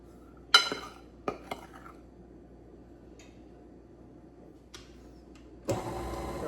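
A spatula scrapes and clinks against a mixing bowl holding 1950s-style pound cake batter, giving a few sharp knocks followed by softer scraping, close and fairly quiet.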